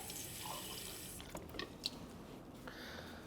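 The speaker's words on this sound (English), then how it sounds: "So now in order to increase the volume to 500, I add cold water." Cold tap water runs into a container of homemade alcohol-free bleach sanitizer mix, a soft steady pour and trickle with faint drips, close by and fairly quiet.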